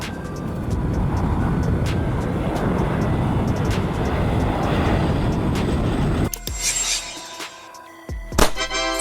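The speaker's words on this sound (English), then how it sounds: "Firebomber aircraft, an aircraft designed to fight wildfires by dropping water or fire retardant on the flames from the air" A firebomber aircraft, a plane built to drop water or retardant on wildfires, roars past with a loud, steady broadband engine drone for about six seconds, then cuts to a few sharp clicks and a brief burst.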